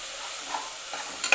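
Tomatoes sizzle softly in a hot pan as they are stirred, a steady faint frying hiss with a few brief scraping clicks of the spoon near the end.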